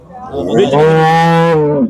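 A cow at the Dabwali cattle market lets out a single loud, close moo lasting over a second, deep and drawn out, with no talk over it.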